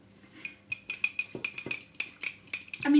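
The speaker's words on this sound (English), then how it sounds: "technically I'm whisking" Eggs whisked in a bowl for stained glass window biscuits, a quick run of bright metallic clinks and taps close by, ending in a brief louder scrape.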